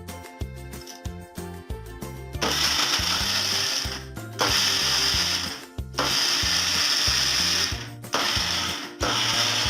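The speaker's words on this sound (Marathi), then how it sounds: "गूळ आणि शेंगा जे कूट आहे सगळं आपण परत मिक्सरमध्ये थोडं एक लॉट घेऊया आणि त्याला मस्तपैकी फिरवून घेऊया मिक्सरमध्ये." A kitchen mixer grinder whirs loudly as it grinds jaggery with crushed peanuts for peanut laddoos, its motor running in long steady bursts broken by brief stops and pulses, alone and close.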